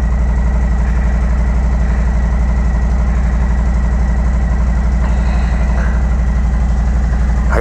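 A motorcycle engine idles steadily and loudly before a group ride out to a California saloon, a constant low rumbling throb that never lets up, with no speech over it.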